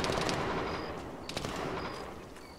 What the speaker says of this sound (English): Is that a machine gun?